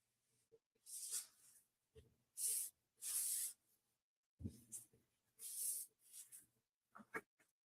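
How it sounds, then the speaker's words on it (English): Several short hissing bursts from a spray bottle of cleaner, spaced a second or so apart, close and crisp, with quiet pauses between. "So I'm just going to spray it down just a little."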